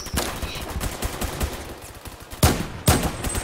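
Gunfire in the Roblox shooter Phantom Forces: a run of rapid, fairly loud shots, with two sharper, heavier blasts standing out near the end.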